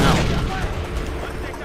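Grenade explosion in Far Cry 4 gives a loud, close boom at the start, followed by a rumbling, noisy tail with scattered crackle.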